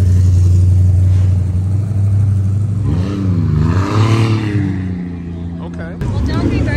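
A Fox body car at a cruise-week car meet idles with a heavy, steady engine note, then revs up and down in a couple of rising and falling swells close by, while people talk nearby.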